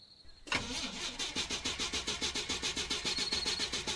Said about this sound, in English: Car still doesn't start.